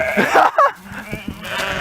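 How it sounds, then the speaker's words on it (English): A bighorn sheep bleats twice in quick nasal cries, close and loud, followed by softer scuffling and a faint voice in the background. "Typically, bighorn sheep are wild animals, and though they're not usually aggressive to humans, they will attack if you tease them like this."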